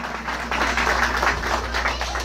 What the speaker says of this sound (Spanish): Fuerte un aplauso a Jesús.